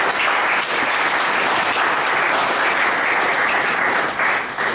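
Loud, dense applause from an audience at a speech evaluation event, steady clapping filling the whole stretch with a brief dip near the end.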